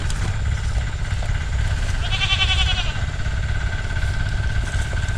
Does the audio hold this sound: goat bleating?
yes